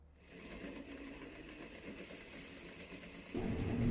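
A sewing machine whirs steadily up close while stitching the front details of a dress with dropped shoulders, a continuous mechanical hum that grows louder near the end.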